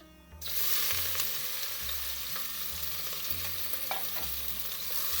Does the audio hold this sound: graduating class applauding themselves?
no